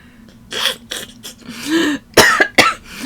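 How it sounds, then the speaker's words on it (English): Several short, sharp coughs in quick succession, close and fairly loud, with brief pauses and a throat-clearing quality between them. "I'm coughing."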